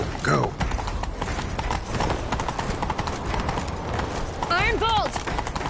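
Rapid clip-clop of a horse galloping in The Witcher 3: Wild Hunt, continuous and close, with brief squealing animal cries near the start and end.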